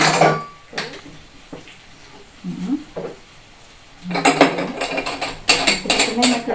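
A hand-cranked meat grinder grinding zucchini gives intermittent metallic clicks and crunching scrapes, coming in bursts with pauses, close by.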